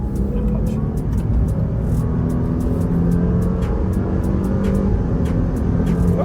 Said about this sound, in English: I'm just gonna punch it on the highway.